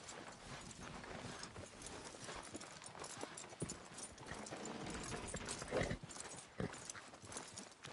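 Horse hooves clip-clopping on the ground, a quiet, uneven series of close steps with occasional shuffles from a newly acquired mare being readied for mounting.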